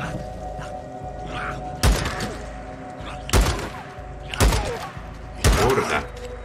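Four loud, sharp gunshots ring out at uneven intervals in the video game Days Gone, standing out against a continuous low rumble of game background sound.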